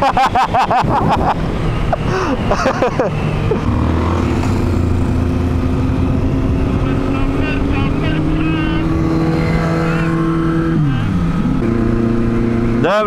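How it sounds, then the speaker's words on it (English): A Kawasaki Z1000 motorcycle engine revs loudly and close by, holding steady tones that climb and dip in pitch through several throttle changes over about thirteen seconds. "this the sound of the Z1000 is crazy, man"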